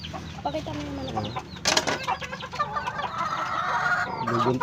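Pet chickens clucking and crowing in a backyard flock, a mix of close clucks and drawn-out calls overlapping, with a brief sharp burst midway and steady background noise.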